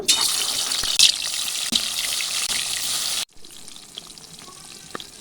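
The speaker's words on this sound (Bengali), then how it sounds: "কড়াই বসিয়ে দিয়েছি সর্ষের তেল দিয়ে ভালো করে গরম করে নিয়েছি মাছগুলোকে ভেজে নেব" Rohu fish fry in hot mustard oil in a wok, making a loud, steady sizzle that drops abruptly to a much quieter crackle partway through, with a few light knocks.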